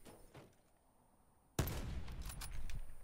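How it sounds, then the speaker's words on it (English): Gunfire in the video game Call of Duty Black Ops 4, a sudden loud burst of shots in a snowy map that breaks a quiet stretch and continues as dense, sustained firing. "I can't see you when you're shooting me like that."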